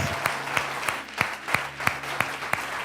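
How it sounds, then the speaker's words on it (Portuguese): A church congregation applauds in praise, a burst of clapping with a steady rhythm of sharper individual claps standing out over the crowd, no one speaking. "Aplauda o Senhor Jesus."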